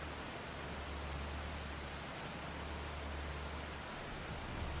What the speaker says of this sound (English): So rain does help flood the field crazy.